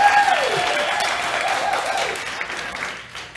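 Audience applause during a talk: a loud, dense crowd clapping that holds steady for about three seconds, then thins out and tapers off near the end.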